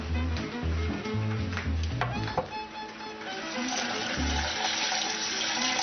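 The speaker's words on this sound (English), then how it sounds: "Wash the rice." Rice is being washed in water at a kitchen sink, with a steady running tap, splashing and swishing water close by, and some low sounds underneath.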